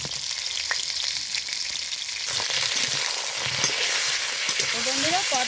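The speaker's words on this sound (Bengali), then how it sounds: "এবার এই গরম তেলে পটলগুলো আগে হালকা করে ভেজে নিব।" Pointed gourd (potol) frying in hot oil in a kadai gives a steady, close, loud sizzle throughout, with a few brief higher squeaks from stirring near the end.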